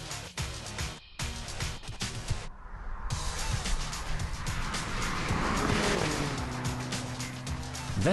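A Mercedes-Benz CLA 45 AMG sedan drives by, its engine and tire roar building from a brief lull into a loud, sustained rush with a rising engine tone near the end.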